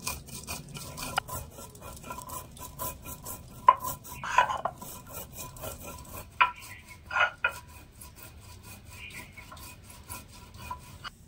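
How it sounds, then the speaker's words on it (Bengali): Fennel seeds and two cardamom pods being ground on a stone grinding slab, with irregular scraping and rubbing strokes, occasional sharper clicks of stone on stone, close and fairly quiet with no talking. "এবারে শিলপাটায় সামান্য একটু নিয়ে নিচ্ছি মৌরি আর দিয়ে দেবো 2টো এলাচ"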